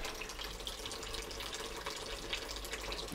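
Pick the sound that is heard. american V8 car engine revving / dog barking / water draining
water draining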